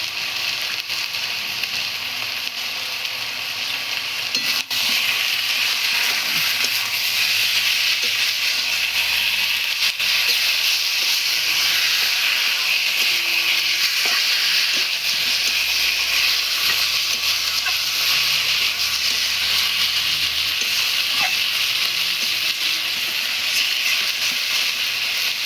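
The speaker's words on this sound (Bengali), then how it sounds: "এখন এইভাবে কষাতে হবে অনেকক্ষণ।" Meat sautéing with chili powder in a pot keeps up a continuous loud hiss and sizzle, steady and unbroken throughout, with no voices.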